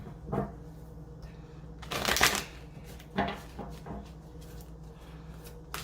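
Oracle cards shuffled by hand at close range, with a few short riffling bursts separated by quiet pauses.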